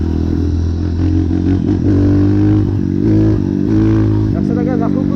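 Motorcycle engine revving hard and pulling under load during an attempt to lift the front wheel, a loud continuous drone rising and falling close by with some mechanical clatter.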